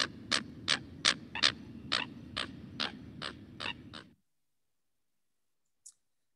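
A little grebe gives a rapid series of about ten sharp, evenly spaced clicking notes that slow slightly before stopping, followed by silence and one faint final note.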